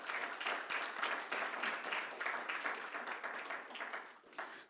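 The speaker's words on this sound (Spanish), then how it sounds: "Denle un aplauso al Señor." A church congregation claps and applauds steadily for several seconds during a Sunday service, fairly loud and sustained, fading slightly toward the end.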